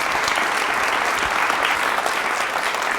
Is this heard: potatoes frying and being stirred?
no